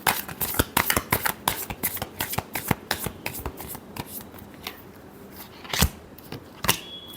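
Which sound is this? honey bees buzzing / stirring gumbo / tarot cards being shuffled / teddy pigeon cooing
tarot cards being shuffled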